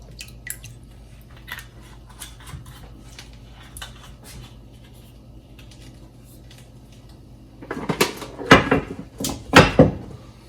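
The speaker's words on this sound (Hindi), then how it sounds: "चार से 5 टेबल स्पून जितना मैं इसमें ऑलिव ऑयल डाल रही हूँ।" Olive oil, four to five tablespoons, poured into a pot of salted warm water for pasta, with a soft liquid splash and trickle rising near the end after quiet kitchen rustling.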